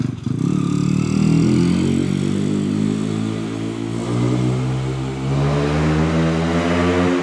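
A car engine strains and revs steadily while climbing a slope on the way up to a hillside shrine, a loud continuous drone that rises slowly in pitch over several seconds, with no voices.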